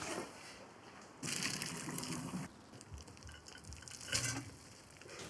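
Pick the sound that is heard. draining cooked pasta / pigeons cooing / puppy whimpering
draining cooked pasta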